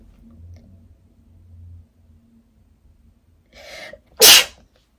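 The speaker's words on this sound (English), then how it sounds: "Oh, I feel I'm gonna sneeze." A single loud, sharp human sneeze with a short breathy intake just before it, in an otherwise quiet indoor room.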